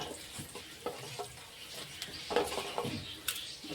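Ingredients for a pineapple palya fry quietly in a pan, a soft sizzle broken by scattered light scrapes and clicks of stirring, fairly faint and close.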